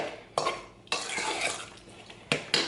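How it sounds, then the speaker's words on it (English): Marshmallows are stirred in a bowl, heard as close scraping and clattering spoon strokes in irregular bursts, with sharper knocks against the bowl near the end. "I'm going to stir it a bit, but not over mix it"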